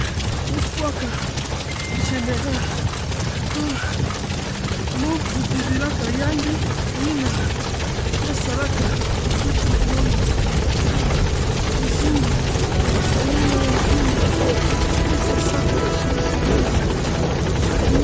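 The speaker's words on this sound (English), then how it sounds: "Support helicopter has arrived." The support helicopter in Metal Gear Solid 5 drones on continuously with a heavy, rumbling rotor, mixed with other game noises and bursts of talk.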